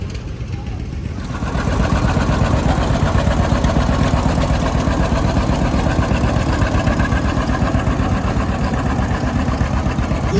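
Steady engine of a Massey 90 tractor pulling an antique tractor at a museum event, running loud and continuous after a quieter first second, with voices faintly present.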